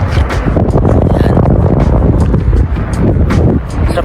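Strong wind at Wadi Hanifa Lake roars and buffets the microphone steadily throughout, a loud, continuous rushing noise.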